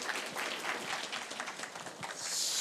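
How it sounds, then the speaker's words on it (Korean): A hall full of party members at a Seoul political forum clap to welcome the next speaker, a district mayor: a steady round of applause with a few sharper claps near the end. "박수로 맞이해 주십시오"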